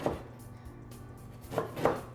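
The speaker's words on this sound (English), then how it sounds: "we're going to cut them into slices about 3/4 of an inch thick" Knife slicing through a baked biscotti loaf on a board, a few faint crisp cuts, one at the start and two close together near the end, with quiet gaps between.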